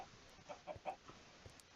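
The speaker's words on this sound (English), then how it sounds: "Oh, it's a chicken." Chickens clucking in a video game mob farm, a few short soft clucks spaced through the moment, faint and low in level with no talk over them.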